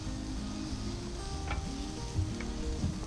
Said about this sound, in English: I am going to first add some sliced onion rings to the griddle